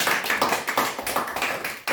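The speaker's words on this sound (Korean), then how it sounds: "박수 한번 쳐줘라." A church congregation claps in a loose, fairly quick rhythm of distinct, close hand claps over about two seconds, with no voices over it.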